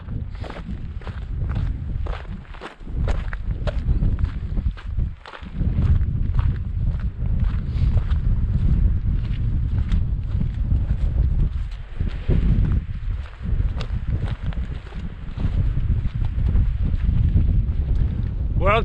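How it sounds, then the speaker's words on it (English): Blustery wind roars steadily across the open summit of Ben Stack above the Cape Wrath Trail in the Scottish Highlands, buffeting the microphone in loud, continuous gusts for the whole stretch with no talk. "It's quite blustery, but it's a lovely viewpoint."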